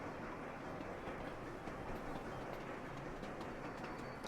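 A train running in the rail-transport game Sweet Transit, a steady continuous rumble of rolling wagons with faint clatter, sustained evenly throughout with no voices.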